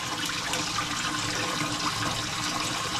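Water pours steadily into the filter chamber of a 125-gallon koi tank, a constant close gushing and splashing rush with no breaks and no voices.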